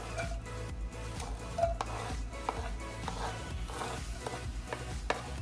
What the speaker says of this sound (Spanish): Ahora en una cacerola con un poco de aceite, que ya esté más o menos caliente,